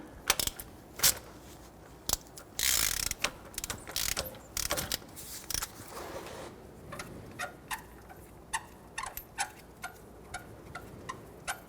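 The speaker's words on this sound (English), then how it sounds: "Remove the crank bolt." A hand ratchet works loose the crankshaft bolt on a 1992-1996 Toyota Camry 2.2L four-cylinder engine, with bursts of rapid clicking and clattering at first, then a steady run of crisp, evenly spaced ratchet clicks.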